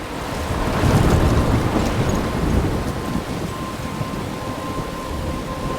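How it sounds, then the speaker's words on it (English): A stormy soundscape from a mobile story game: dense rain hiss and a low rumbling roll of thunder that swells early then eases into a steady wash, with a faint thin tone running underneath. "I'm trapped in the storm?"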